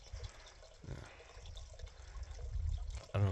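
Water at a desert water source in Nevada trickles and laps faintly, with soft gurgles and dribbles over low wind rumble, quiet and close, ending in a louder thump.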